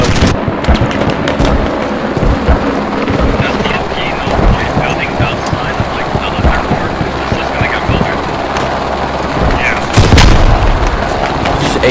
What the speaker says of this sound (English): I hate that frag.